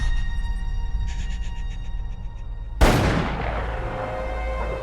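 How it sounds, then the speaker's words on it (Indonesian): A single loud gunshot from a film scene cracks sharply out of a low steady hum, with a long decaying echo that fades over the following seconds. "Andrew menembak Eric, bro"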